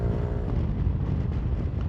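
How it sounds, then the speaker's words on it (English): Steady low-end wind buffeting on a camera microphone mounted on a moving motorbike, dense rumbling roar with engine-like hum underneath, continuous and loud throughout with no speech. "it's quite windy around here now, so that may come through in the video."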